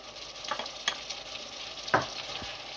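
Chopped green chilies going into mutton in a hot pan, a low steady sizzle with a couple of soft stirring clinks and one sharper burst as they hit the oil, no talking.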